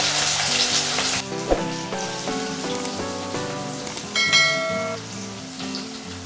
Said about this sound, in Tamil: இது எல்லாத்தையும் நல்லா வதக்கிடுங்க.